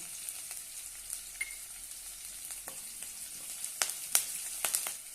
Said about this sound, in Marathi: छानपैकी परतून घेऊया थोडंसं कढीपत्ता घालूया